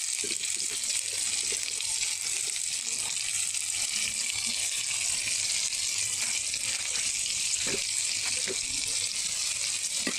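Onions and chillies frying in oil in a pan, with a steady hiss of sizzling and occasional soft stirring clicks, close and continuous with no talk.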